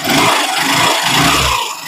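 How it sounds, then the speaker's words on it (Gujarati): A rebuilt car engine, freshly refitted after being opened up, starts and runs close by; a loud, steady mechanical roar with slight surging in rhythm, and no voices. "હવે તમને હું સંભળાવું છું ચાલુ કરીને કેટલું સાયલન્ટ થઈ ગયું છે"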